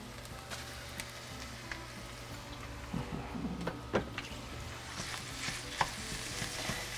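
Ground beef and ground pork frying in a pan with onions, a soft steady sizzle with scattered scraping and stirring clicks, fairly quiet and close, no talking.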